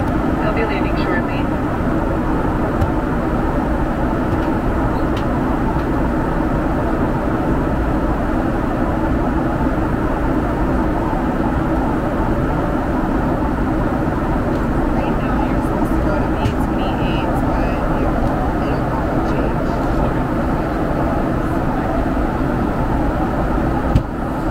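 Steady broadband roar inside a Delta Boeing 757-200 airliner cabin on landing approach into a snowy Salt Lake City, loud and continuous throughout with faint cabin voices beneath.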